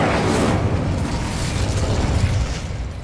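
Incendio fire spell cast in Hogwarts Legacy, a loud rumbling fiery burst that swells and roars steadily for about three seconds, alone without speech.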